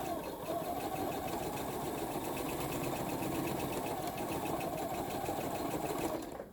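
A sewing machine stitching a quilt block seam, a steady fast mechanical whir running close and continuous for several seconds before stopping abruptly.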